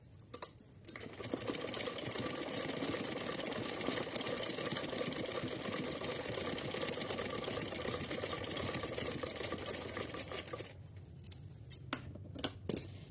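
A sewing machine runs steadily for about ten seconds, stitching a reinforcing seam on a small summer dress for a Laddu Gopal idol; the close, even whirring and needle chatter stop abruptly, followed by a few faint clicks.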